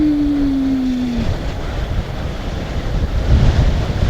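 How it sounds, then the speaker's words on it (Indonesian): Strong wind gusting across a high mountain slope near a hillside village on Mount Sumbing, roaring steadily into the microphone throughout; a brief droning hum is heard at the start. "Anginnya banter banget nih."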